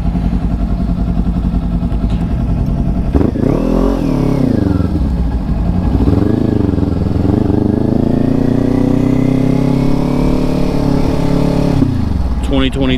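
A 2023 Kawasaki Ninja motorcycle heard from the rider's point of view while riding. The engine revs up and down through several rising and falling pitch sweeps, loud and close, with steady wind noise underneath.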